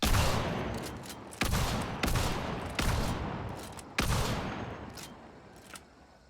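The Terminus rifle in Hunt: Showdown fires four heavy, booming shots at an even pace about 1.3 seconds apart, each one ringing out into a long decaying echo, with no voices.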